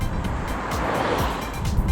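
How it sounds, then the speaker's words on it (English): Broad, steady roar of high-performance all-season tire tread heard from inside a car while driving, a constant hiss-like rumble with no breaks and no speech. "It does create noticeable tread noise over most surfaces though."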